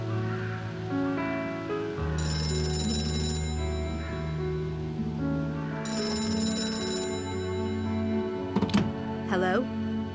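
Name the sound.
telephone ringing in video game Gray Matter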